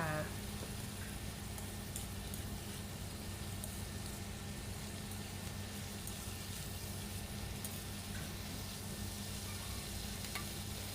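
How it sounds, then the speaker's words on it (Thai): Cabbage and pork belly stir-fry in a pan, a steady soft sizzle running unbroken and fairly faint throughout, with no voices over it. "จากนั้นก็ผัดจนกว่าผักจะสุกค่ะ"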